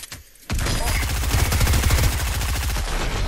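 Rapid gunfire in a Fortnite match, a dense, loud burst of evenly spaced shots that starts abruptly after a brief quiet moment and keeps going without a break.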